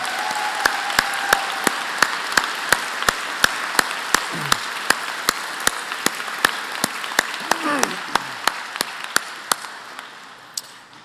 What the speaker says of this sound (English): give a big round of applause to our first responders and our government leaders